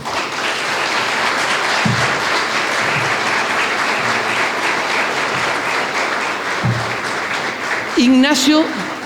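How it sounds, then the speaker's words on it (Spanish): Warm audience applause for Ignacio Núñez, a philosophy professor, at a book launch on education in history: steady dense clapping throughout, with a few low voice fragments under it and a brief louder burst near the end. "para la única persona que voy a pedir un caluroso aplauso de mi parte"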